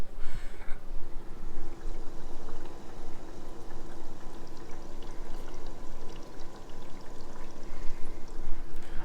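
Ice maker running inside a side-by-side refrigerator, heard up close by the vent as a steady, fairly loud watery hiss and rush with a low hum underneath, continuous throughout.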